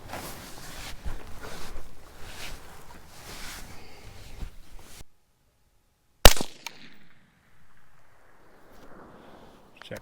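A single .223 Rem rifle shot from a Uintah Precision UPR15 cracks out sharply on an outdoor range, following a stretch of low rustling and handling noise and trailing off into faint echo and quiet shuffling.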